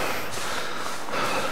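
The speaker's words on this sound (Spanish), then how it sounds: "¿Escuchas la respiración?" Heavy, labored breathing from a struggling survivor in The Long Dark, steady rasping breaths filling the short stretch with no talk.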